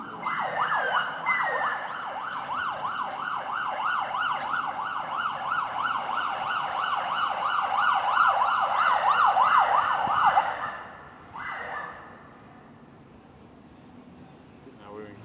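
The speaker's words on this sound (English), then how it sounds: "No, it's just the ambulance." An ambulance siren wails in a steady rapid up-and-down pattern, loud and fairly close, for about ten seconds before it drops off and fades away, heard during a charity cricket match in Sydney with distant voices in the background.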